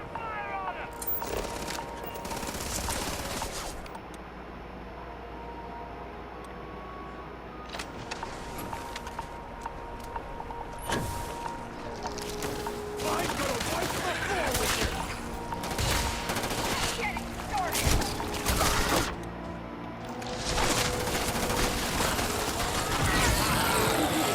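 Gunfire in Starfield on PS5 crackles in repeated bursts and rapid volleys, sharp cracks of varying loudness spread across the scene, with a player's voice talking over parts of it.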